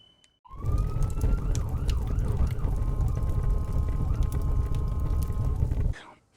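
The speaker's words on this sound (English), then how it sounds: "I can hear the smoke alarm going off in the background" A loud electronic alarm wails continuously over a heavy rumbling background for several seconds, then cuts off abruptly.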